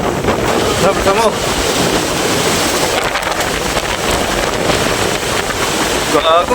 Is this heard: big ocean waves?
yes